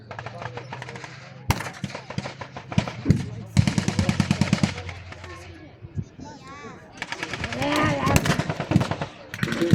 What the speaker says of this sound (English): The explosions over on the left-hand side, perhaps the Allied forces.